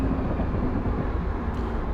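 A Union Pacific freight train hauling a string of hopper cars in a train simulator game, heard as a steady, loud low rumble and drone that carries on without a break.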